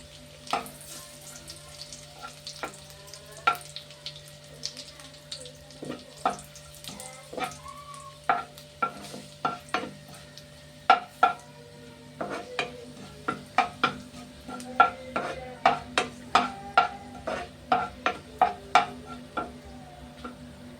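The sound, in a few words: dried red chillies frying in a pan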